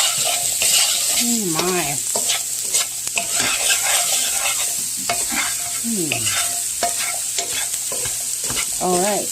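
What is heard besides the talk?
stirring pepper into sausage gravy with a spatula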